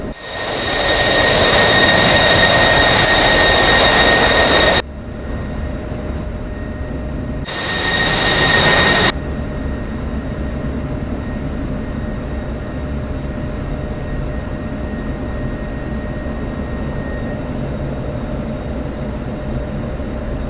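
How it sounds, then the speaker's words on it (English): F-16 jet engine in a flight simulator video game, a loud steady roar that drops sharply, surges back briefly, then settles into a quieter continuous hum. "I'm going to also break out the F-16 and try to land that"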